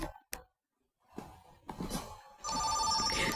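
A telephone rings with a bright, trilling bell tone starting partway through, after a few clicks and silence, growing steady and fairly close.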